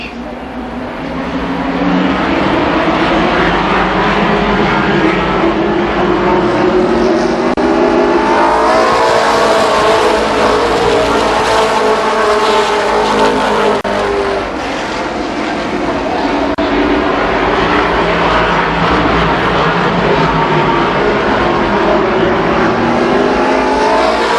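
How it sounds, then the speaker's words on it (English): Race cars roar loud and steady around a short oval at a 1993 Memorial Day Classic at Columbus Motor Speedway as the pace car pulls off on the backstretch, engines swelling and surging in a dense continuous pack. "The Bob Evans pace car pulls off the track on the backstretch."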